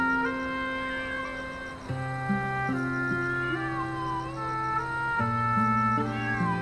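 Kittens meow one after another, clear, close and sustained cries that overlap and shift in pitch, with no talking over them.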